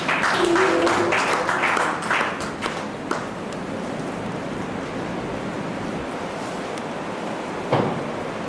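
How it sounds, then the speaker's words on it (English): Audience applause at a gathering for newly employed academic staff, a burst of clapping in the first two seconds that thins into scattered claps and fades into a windy, noisy background. "A round of applause for her"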